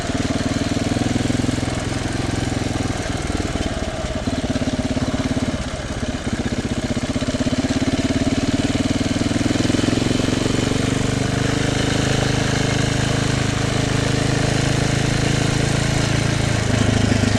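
A motorcycle engine running steadily while riding, a loud continuous drone with constant rumble and rough mid-range texture, close and unbroken throughout.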